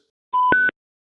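Motiv Reflex electronic tone sequence when the connection button is clicked: a short steady beep that steps up to a second, higher beep, clean and isolated in silence.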